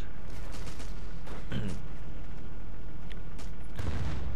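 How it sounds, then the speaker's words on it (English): Tank cannon fire and scattered gunfire in the World War II shooter Battlefield 1942, several sharp blasts and booms over a constant roar of battle noise. "the Germans who are trying to cross that bridge are going to all get mowed down by cannon fire by my tank"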